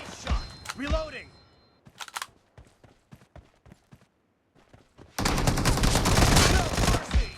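Gunfire in PUBG Mobile, including an M24 sniper rifle: sharp scattered shots and rapid bursts early, then a dense sustained volley of automatic fire near the end, with in-game voice callouts mixed in.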